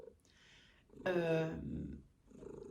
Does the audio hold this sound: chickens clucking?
no